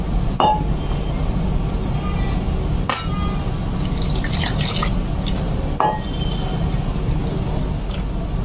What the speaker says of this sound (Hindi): पानी इसमें आवश्यकता के अनुसार डलेगा